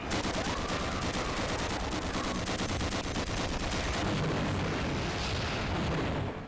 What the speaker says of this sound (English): the machine gun can overheat, and then it just keeps firing